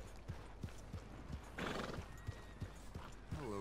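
A horse in the Red Dead Redemption 2 video game clip-clops at a steady walking pace and then gives a loud whinny near the end, close and clear over a low background rumble.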